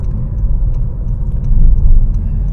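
A 2019 Honda HR-V with a CVT accelerating partway, giving a steady low engine and road rumble heard from inside the cabin that swells slightly midway, with no talk over it.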